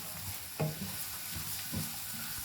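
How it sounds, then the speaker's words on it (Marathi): A spoon scrapes and stirs chopped vegetables with red chili powder and turmeric in a frying pan, soft sizzling running underneath, with a few louder scraping strokes at a slow, uneven pace. "लाल तिखट मी ह्याच्यात घालते आणि पाव चमचा हळद आणि व्यवस्थित ही भाजी ढवळून घ्यायची"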